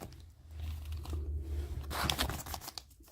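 A small plastic bag from a Mini Brands collectible capsule being torn open, a steady crinkly rip with crunchy plastic rustle running close and moderately loud for about three seconds, no talk.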